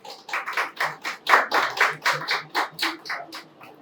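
A small comedy-show audience claps in a steady rhythm of about a dozen distinct claps, close by and fairly soft, fading slightly at the end.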